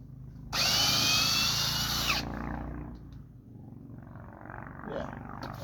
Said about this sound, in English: We'll just try to click her on this here drill. Hold it in reverse.